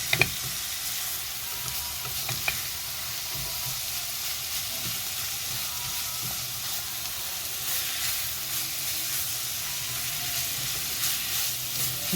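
Minced meat sautéing with vegetables in a hot pan for Egyptian moussaka, a steady loud sizzle and hiss with occasional stirring clinks near the start and no talk.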